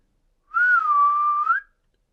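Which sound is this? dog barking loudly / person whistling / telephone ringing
person whistling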